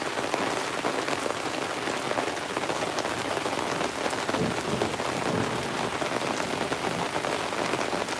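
Steady rain falling outdoors during gold sluicing, a dense, even hiss of drops on surfaces, continuous and fairly soft, with no voices.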